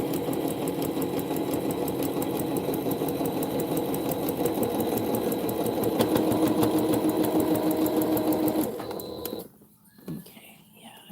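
A sewing machine stitches quilt binding, running in a steady continuous mechanical whir close up before stopping near the end, with a voice talking quietly over it.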